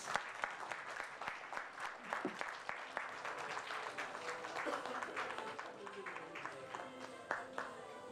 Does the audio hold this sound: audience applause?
yes